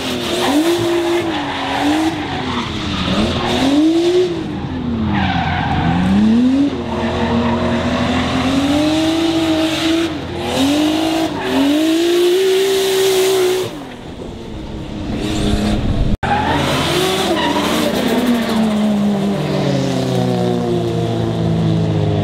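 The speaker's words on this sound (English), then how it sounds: "We're gonna keep drifting." Drift cars slide through corners at a Japanese drift event, engines wailing up and down in revs over continuous loud tire squeal and skidding, heard near and without talk.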